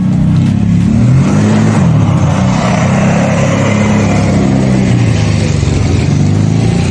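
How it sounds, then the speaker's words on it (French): A Ducati motorcycle engine runs loud and close, a steady, dense mid-range roar that holds throughout with slight swells of revving and no pauses, heard alone without speech. "Pour cette bécane magnifique. Ducati. Voilà. Et je vais vous la démarrer."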